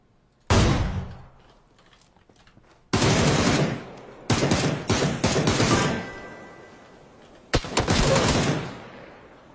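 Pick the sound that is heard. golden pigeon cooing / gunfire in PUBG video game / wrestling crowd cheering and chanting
gunfire in PUBG video game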